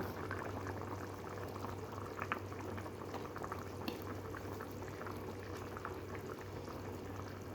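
Curry gravy in a pan with eggs just added simmers with a constant, soft bubbling and faint sizzle, steady and close, with no voices.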